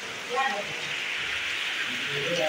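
Steady rain falls on a village in Odisha, a dense continuous hiss lasting throughout, with faint voices and brief tonal sounds over it.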